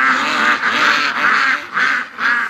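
A flock of pen-raised ducks crowded against a wire fence quacks loudly and continuously, overlapping calls swelling and dipping in waves, close by with no voices.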